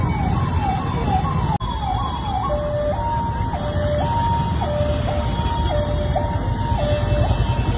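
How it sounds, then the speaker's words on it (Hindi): An ambulance siren wails in a repeating two-tone pattern, loud and near, over a dense roar of road traffic on a congested street by a flyover. "एम्बुलेंस रॉन्ग वे आ रही।"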